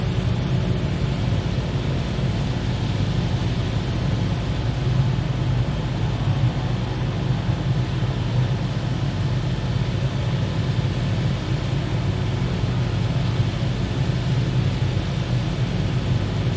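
Steady drone of a Got Friends Wilga 35/80 bush plane engine in a flight simulator game, heard with the doors removed, a constant rumbling hum with airy hiss, loud and unbroken.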